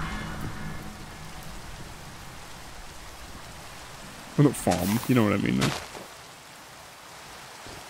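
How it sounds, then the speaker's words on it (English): Rain falls steadily in Minecraft, a soft continuous hiss running throughout, with someone talking briefly over it midway. "Keep raining in Minecraft."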